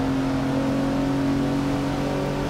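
A Rolls-Royce Dawn engine in Forza Motorsport 6 holds a steady, droning rev during a gear change, a continuous smooth hum with no pause and no voices.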